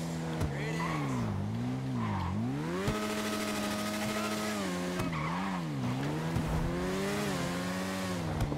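Car in GTA Online weaving through traffic on a time trial, engine note rising and falling with each swerve and gear change, tires squealing in places, steady and close with faint talk mixed in.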